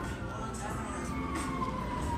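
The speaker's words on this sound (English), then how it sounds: "he heard sirens and all of a sudden he's out of here. Then realizes it was a fire truck" A fire truck siren wails at a distance, a faint steady tone held under street noise and a low rumble throughout.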